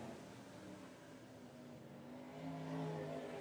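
Race cars at a speedway lap the track during a state championship race, a steady loud engine roar with rising pitch as the field passes, ending in a stronger surge.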